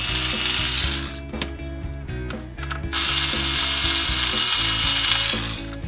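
A ratcheting assembly driver backs screws out of a holster, giving close, rapid mechanical clicking in repeated bursts with brief pauses in between.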